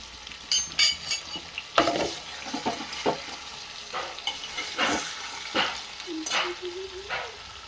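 Spices such as turmeric and coriander powder are stirred in a frying pan while cooking drumsticks, giving intermittent scraping strokes and a light sizzle, with a brief squeak near the end.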